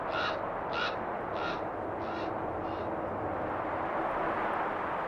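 Ravens in the Rocky Mountains mob a golden eagle with five evenly spaced harsh caws. The calls are moderately distant and rise over a steady background hiss of wind.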